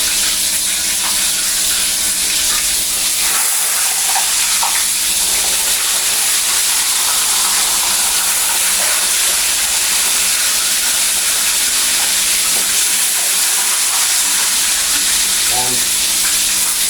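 Whole chicken deep frying in hot oil, a loud, constant crackling sizzle with faint clinks of utensils now and then.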